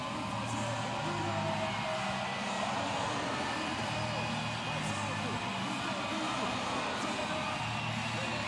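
A capacity crowd fills the arena at a Rio 2016 Paralympic wheelchair rugby bronze medal match between Japan and Canada, a dense steady roar of cheering and shouting sustained throughout with a commentator talking over it.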